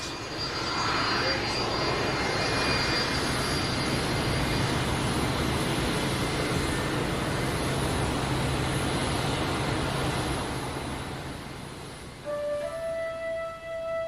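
Jet engines of an American Trans Air VIP Lockheed L-1011 give a steady, broad roar that holds evenly throughout, easing slightly near the end as faint tonal whines emerge.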